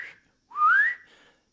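A person whistles a short, rising tone in imitation of an old Crip whistle from a movie, with a softer whistled note before it and a fading tail after, close and alone with no talk.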